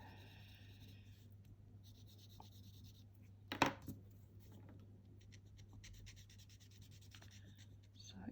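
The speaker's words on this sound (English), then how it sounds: "enjoy the sound of your pencil running over your paper" A pencil rubs and scratches across paper while drawing a Zentangle pattern, faint soft strokes with one louder brief scrape midway, quiet and close.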